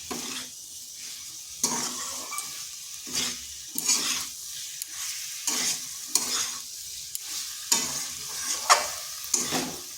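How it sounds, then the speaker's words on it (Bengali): Vegetables with a ginger-cumin paste stir-fry in a pan for an olkopi (kohlrabi) dish, a steady sizzle broken by repeated scraping stirs of a spatula at a fairly regular rhythm, close and alone without talk. "আদা আর জিরে বাটার গন্ধটা চলে গেছে, আর এটাও একটু বেশ কিছুক্ষণ কষা হয়ে গেছে।"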